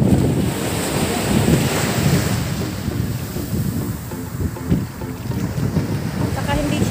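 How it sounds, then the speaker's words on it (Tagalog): Steady roar of ocean waves washing in, mixed with gusty wind buffeting the microphone, continuous and loud throughout. "Tinapon na ako ng alon."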